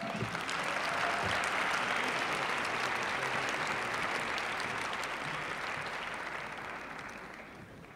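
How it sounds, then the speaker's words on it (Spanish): Loud, sustained applause from a large audience at a business event in Mexico welcoming a banking executive, a dense wash of clapping that holds steady and then gradually fades. "con un fuerte aplauso."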